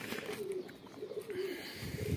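Pigeons coo on a rooftop after rain, a run of soft, low, repeated coos close by against light background noise, with no talking.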